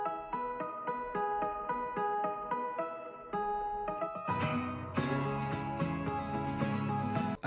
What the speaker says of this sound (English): I pitched up the guitar an octave, and it sounds like this